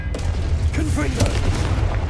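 A Confringo fire blast spell is cast in Hogwarts Legacy, giving a booming, whooshing burst that lands with a rumbling low impact and carries steady background noise beneath.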